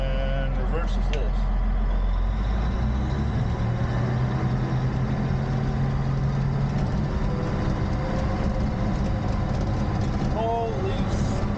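A D8 bulldozer's diesel engine runs steadily, a loud continuous low rumble with a droning tone that shifts early on as the throttle changes.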